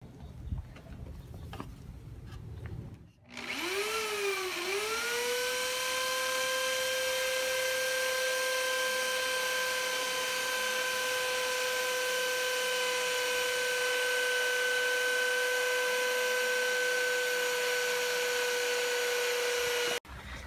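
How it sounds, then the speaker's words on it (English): A drill-powered spindle sander enlarging a hole in a piece of wood spins up after a short pause, its pitch rising and settling into a loud, steady whine that runs unbroken to the end. "I'm actually going to be using the sander to make it a bit bigger."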